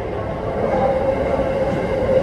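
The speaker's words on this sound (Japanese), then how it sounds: "The train for Yokosuka Chuo will arrive soon." Keikyu train pulling into Yokohama station, a steady close rumble of wheels and motors on the rails with a faint whine through it.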